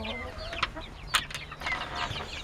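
Indian game hens and a rooster from Rize, housed in pairs, give short clucks and murmuring calls in their coop, several in quick succession at close range with light rustle around them.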